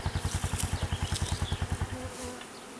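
A honeybee swarm being transferred makes a close, pulsing buzz in rapid rhythmic beats that smooth into a steadier drone near the end.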